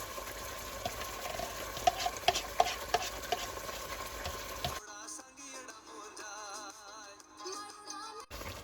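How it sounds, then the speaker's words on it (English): Mutton with spices and freshly added yogurt is stirred and roasted in a pot for Sindhi biryani, with a steady scraping stir and soft sizzle for about five seconds before it cuts to a quieter, different sound. "we'll mix it and roast it for at least 5 minutes"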